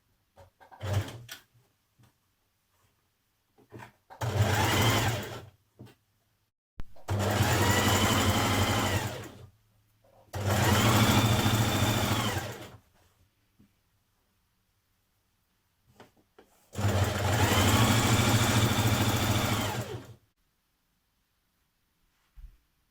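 Sewing machine stitching a double-fold dress hem on a stretch stitch, running in four or five separate bursts of a few seconds each with silent pauses between, close and clear with no talking.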